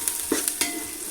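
Ginger-garlic paste for chicken biryani sautés in a pan over low heat, with a soft, steady sizzle and a few quick stirring scrapes, close and faint.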